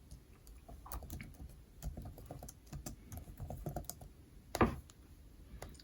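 Keys clatter on a computer keyboard in an irregular run of soft, close clicks and taps, with one sharper, louder knock near the end and no voices.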